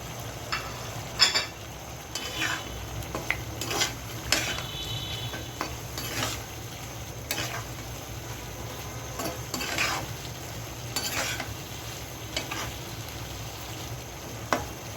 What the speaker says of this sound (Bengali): এখন আমি কেটে রাখা করলাগুলো দিয়ে দিলাম